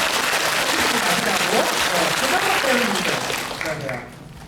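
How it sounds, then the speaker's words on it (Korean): An audience at a Korean film screening and guest talk applauds an actor, a steady wash of clapping at moderate loudness that thins and fades out near the end, with faint voices mixed in. "우리 배우님께 박수 한번 부탁드리겠습니다."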